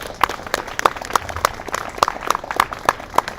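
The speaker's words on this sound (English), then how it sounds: "Let's give both of our speakers one more quick round of applause." Sparse audience applause at a science talk event for two speakers, a small group clapping with distinct individual claps in a loose rhythm.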